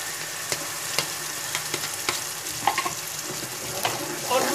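A paste of ground tomato and green chili fries in a pan with a soft, steady sizzle. Several sharp clicks of a stirring utensil against the pan break through it.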